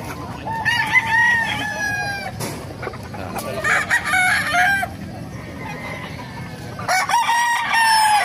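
A kanawayan gamecock rooster crows repeatedly among other fowl at a busy Bocaue market, with several loud, close crows and clucks over steady crowd and market bustle.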